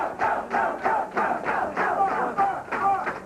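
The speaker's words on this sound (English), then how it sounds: "Listen to the crowd" Crowd at a 1984 candlepin bowling championship roaring in repeated rhythmic surges, loud chanting-like swells of voices rising and falling about every half second.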